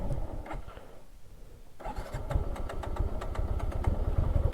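A motorcycle engine starts on a rough road, cranking and catching before running with a steady, close mid-pitched engine hum.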